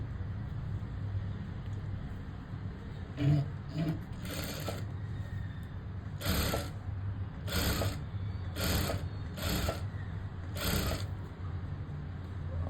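A sewing machine stitching blouse fabric runs in several short, fairly quiet bursts of rapid mechanical whirring, separated by pauses, with no voices.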